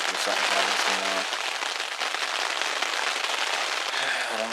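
Rain drumming steadily on a tent during a Colorado elk hunt on public land, a dense close patter filling the whole stretch, with a few brief low tones breaking through.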